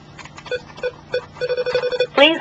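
Outgoing call on a phone line to a cell, a repeated electronic ringback tone pulsing in short beeps, followed by a brief rising warble at the end, fairly close and loud.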